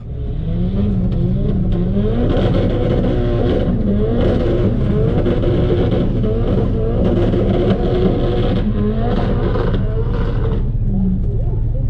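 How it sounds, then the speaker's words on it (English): A car doing a burnout at Killarney's street-to-strip drag racing event, its engine held in a loud, sustained roar with rising revs and tire whir that run unbroken for the whole stretch, close by. "Such a nice burnout"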